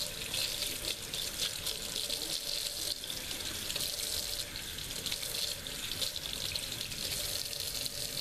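Warm tap water runs steadily from a faucet into a sink while makeup brushes are rinsed clean of soap, a close, continuous splashing flow with no talk.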